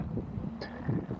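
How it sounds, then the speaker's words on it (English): Strong gusty crosswind of about 30 miles per hour buffets a microphone on a motorcycle fitted with a car tire, a low fluttering rumble of wind that is steady and fairly faint, with no voices. "Pretty strong wind. I'd say 30-mile-an-hour gusts."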